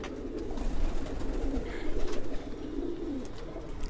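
A Madrasi pigeon coos in soft, low, rolling calls, repeated a few times at close range against a murmuring background of other birds.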